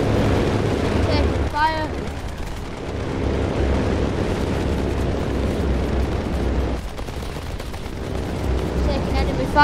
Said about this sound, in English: Taking enemy fire.